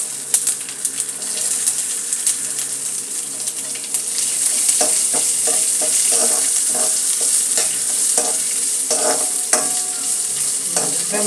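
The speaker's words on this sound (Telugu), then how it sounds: "ఉల్లిపాయ ముక్కలు బాగా వేగాలి" Chopped onion pieces frying in hot oil over spice tempering for an old-style brinjal pulusu pachadi, a loud constant sizzle that grows fuller partway through, with repeated scraping stirs of a spoon against the pan.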